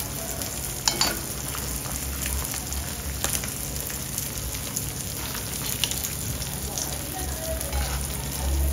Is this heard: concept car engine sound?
no